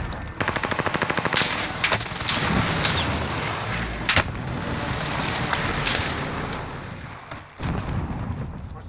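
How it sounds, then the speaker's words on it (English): A precision airstrike lands in the Call of Duty Warzone video game amid loud, close gunfire, with rapid bursts and heavy booming blasts that come and go over several seconds. "Precision airstrike missed."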